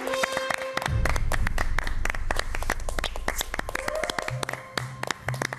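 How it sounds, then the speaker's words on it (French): Hands clap with crisp, distinct strikes from a small crowd welcoming guest Alexandre Astier onto the French TV talk show Quotidien. The applause is fairly sustained under light background music, and no voices come through. "Des applaudissements quand même assez nourris"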